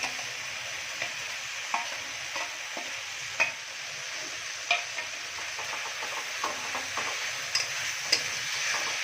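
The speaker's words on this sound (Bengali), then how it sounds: "এবারে আমি মাছ যেগুলো কাটা ছাড়িয়ে রেখেছিলাম এগুলো সব দিয়ে দিলাম।" Cut catfish pieces fry and get stirred with spices in a pan, a steady close sizzle broken by irregular scraping stirs and light ticks of the spatula.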